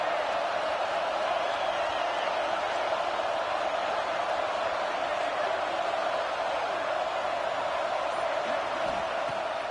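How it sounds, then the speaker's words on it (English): Home football crowd at a stadium, a dense steady roar of cheering and noise that fills the whole stretch without pause, loud and continuous. "This crowd bringing the energy and noise early."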